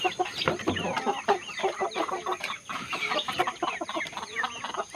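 Young Belgian Asil chickens, about four months old, cluck busily and continuously up close while feeding.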